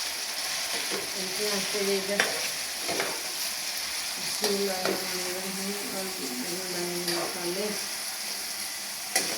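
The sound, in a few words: onions frying for tadka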